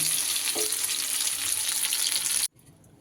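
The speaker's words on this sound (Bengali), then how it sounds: "এইভাবে ঢেকে ঢেকে কিন্তু বেশ সুন্দর করে ভেজে নিয়েছি আরও একটু সময় আমি ভেজে নেব" Eggplant pieces sizzle steadily in a covered frying pan, a loud, dense hiss with a brief scrape near the start, cutting off abruptly to near quiet for the final half second.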